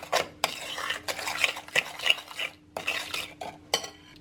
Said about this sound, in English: Give that a little stir through.